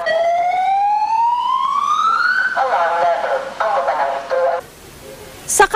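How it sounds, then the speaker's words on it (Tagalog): Rising electronic siren from an automated flood water level monitoring system in a flood-prone area, a loud tone that sweeps upward and then shifts into a pulsing warbling signal before cutting off, with a brief burst of noise at the end. "Bawat metrong itinataas ng tubig, tutunog daw ang sirena at may kasunod pang paalala"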